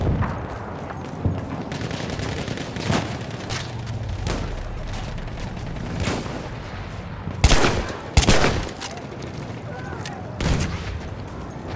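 Machine gun fire and other gunshots ring out in a Battlefield 1 Operations battle, with bursts and loud cracks over constant combat noise and soldiers shouting now and then.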